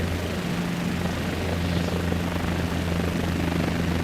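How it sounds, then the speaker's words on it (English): A helicopter rising in a video game gives a steady, close, loud rotor and engine drone with a constant low hum, heard alone with no talking. "This is why helicopters were created"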